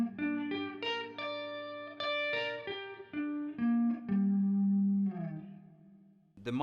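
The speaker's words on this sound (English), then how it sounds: "and the minor arpeggio" Electric guitar with effects running through a minor arpeggio in a CAGED-system position, about a dozen single notes picked one at a time, climbing and then settling on a long held low note, close and clean with no voices.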